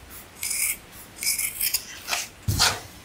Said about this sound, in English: go ahead and trim everything up to 1/4 inch